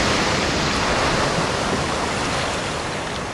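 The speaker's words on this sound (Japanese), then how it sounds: "海が割れた。" In the video game Okami, the sea splits apart with a loud, sustained rushing roar like churning surf and wind, continuous and full for several seconds with no talking.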